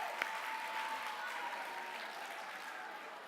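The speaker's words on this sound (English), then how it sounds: "let's give Kyle a round of applause" A book fair audience gives steady, fairly faint applause for a young volunteer named Kyle, an even patter of many hands clapping that stays distant and gradually softens.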